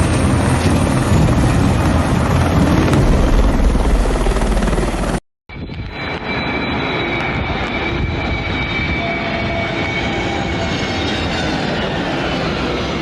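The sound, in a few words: firefighting helicopter reloading at a swimming pool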